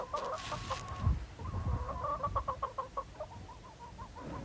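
Chickens bought from villagers on a Silk Road journey cluck in quick, close bursts over a low rumbling background.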